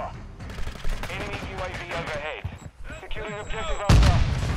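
Rapid MP5 gunfire in Call of Duty: Modern Warfare II, bursts of shots that start sparse and build to a loud heavy volley at the end, with a person talking over the firing.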